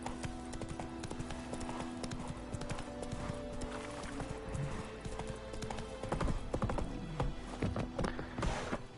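Horse hooves clip-clop at a steady gallop in Witcher 3: Wild Hunt, a fast, even rhythm of moderately close hoofbeats with a faint whinny and game ambience behind.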